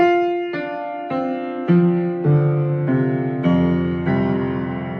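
Stacked choir harmonies of several voices hold sustained chords, changing pitch about every half second in smooth steps, full and close, with no speech.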